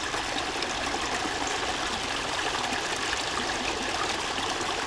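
Water flows steadily into an outdoor reflecting pool, a constant, even rushing and trickling wash with no pauses. No voices are heard.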